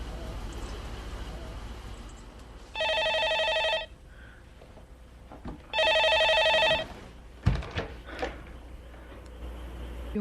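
A telephone in a house rings twice, each electronic trill lasting about a second with a pause between, followed by a handset clunk and faint room noise.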